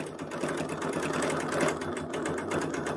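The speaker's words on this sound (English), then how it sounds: "I can sew back around to that and go that way." Sewing machine stitching fabric runs steadily and close up for the whole stretch, a continuous rapid mechanical patter with no talk over it.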